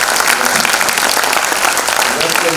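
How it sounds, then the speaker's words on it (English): An audience at an interview event applauds and cheers for a guest, an Indian Army lieutenant general. A loud, dense, continuous wash of clapping fills the whole moment without a break. "let's cheer up for him"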